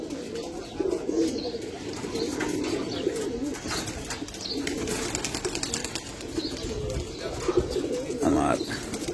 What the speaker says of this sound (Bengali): তুতা আর দারোগা কবুতর